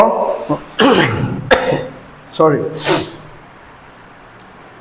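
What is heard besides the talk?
coughing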